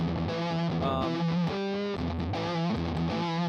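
Electric guitar played through a Rat-style distortion pedal, a dense, saturated and sustained tone with shifting chords and notes, loud and continuous throughout.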